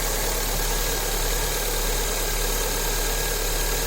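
Fiat Palio Fire engine running with an abnormal noise and low oil pressure, a steady dense mechanical drone with low knocking rumble, close and continuous throughout.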